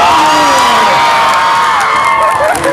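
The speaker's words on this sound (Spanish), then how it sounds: "Alberto, un aplauso por favor." A crowd at a 2015 comic convention in Guadalajara cheers and whoops after a Dragon Ball Z opening played live by an orchestra, a loud, dense wash of shouting and cheering voices that sustains without a break.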